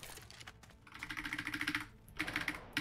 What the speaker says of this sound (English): That's all that noise is, my keyboard.